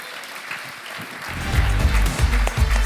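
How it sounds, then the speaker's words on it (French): Audience applause at a regional business awards ceremony in Cantal, swelling from a faint patter into sustained, full clapping from a large crowd that fills the room. "On peut l'applaudir."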